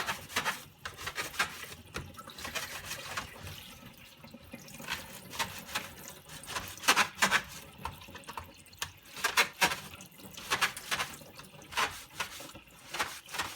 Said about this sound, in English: while the water's flowing to flush the dirt out.